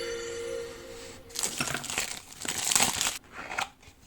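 Opening the packaging of a llano 30000mAh 100W mobile battery: crisp crinkling and tearing of wrapping in bursts, close and fairly loud, with a pause before a last short rustle.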